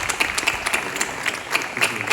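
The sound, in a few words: audience applause after a debate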